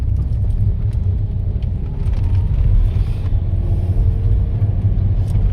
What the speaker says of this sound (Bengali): ও ড্রাইভিং করছে।